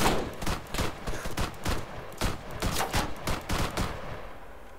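Rapid bursts of gunfire from a military shooter game set on Altis, with repeated sharp volleys and fusillades crackling close and loud throughout, no speech.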